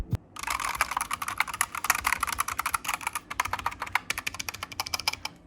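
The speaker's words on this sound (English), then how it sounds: "I'm gonna unplug it and make some typing noises for you keyboard freaks out there." Rapid, continuous clacking of unplugged mechanical keyboard keys fitted with O-rings, close and crisp, with an uneven typing rhythm and no voices.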